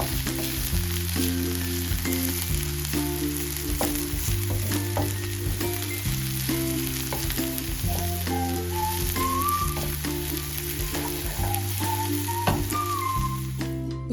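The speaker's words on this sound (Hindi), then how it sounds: "ये जो सब्जियाँ हैं इसे अच्छे से फ्राई करके" Vegetables fry steadily in hot oil for Manchurian dry, a continuous close sizzle with occasional stirring and scraping throughout and no voices.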